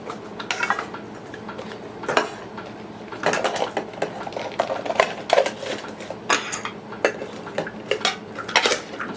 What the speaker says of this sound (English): This is your camp stove, a little spoon, utensils for eating, and a scrubber.